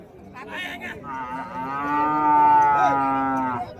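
A native cow moos nearby at the Madrapalli cattle market, a long drawn-out low call that swells in the middle and fades, with a short shuffling noise before it.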